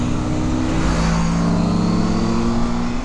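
KTM and Yamaha MT-10 motorcycles accelerating on a Pyrenees mountain road, heard from a following Triumph Tiger 1200, a loud close engine roar with pitch climbing and shifting through gears over steady wind rush.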